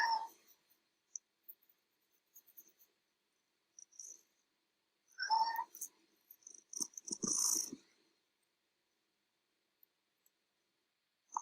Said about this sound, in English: And then some more purring and some meows.